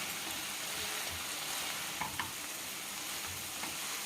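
Veg manchurian being stir-fried with sauces in a pan, a continuous close sizzle and frying hiss with a few soft scrapes of the spatula, steady throughout and without any voices.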